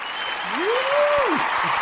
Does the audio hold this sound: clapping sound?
yes